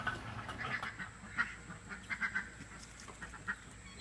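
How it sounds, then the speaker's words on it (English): A guinea fowl hen outdoors gives a rapid run of harsh, cackling calls, several bursts of clipped squawks rising over a steady background hum, moderately close. "she just made the I laid an egg call"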